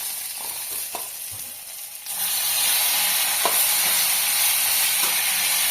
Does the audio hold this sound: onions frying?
yes